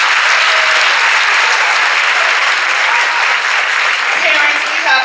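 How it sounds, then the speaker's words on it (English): Loud, sustained audience applause at a charter school's first high school commencement, a thick steady roar of clapping with faint voices mixed into the crowd. "can we give her a round of applause"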